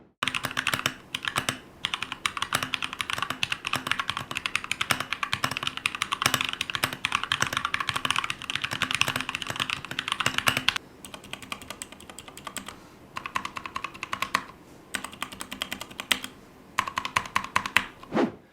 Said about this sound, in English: here's an example of me typing on this keyboard with the brown switches